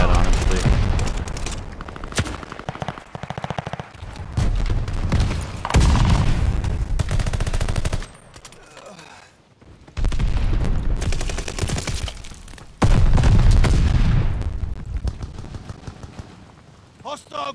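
Automatic gunfire in Call of Duty: Vanguard multiplayer comes in loud sustained bursts and rattling volleys separated by short quieter gaps, with a player's voice talking at times over the shooting.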